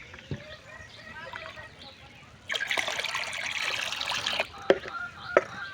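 A stick stirs pesticide into water in a container for garden spraying, making a close sloshing, trickling swirl for a couple of seconds, with a few knocks and faint background noise around it.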